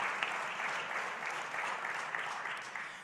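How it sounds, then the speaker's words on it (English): An audience at an Ag Day gathering gives a round of applause, with dense, even clapping held for the full three seconds. "We've had a big round of applause."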